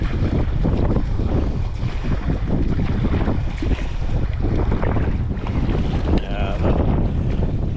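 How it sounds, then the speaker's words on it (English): Strong wind buffets the microphone over sloshing waves during sea kayaking on open water, a dense, continuous roar with water splashing close by; a voice briefly speaks. "But it is windy."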